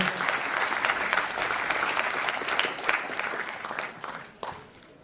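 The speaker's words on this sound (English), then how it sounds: "Another round of applause to our keynote speaker." A summit audience applauds the keynote speaker with sustained, dense clapping for several seconds, loud and steady before easing slightly at the end.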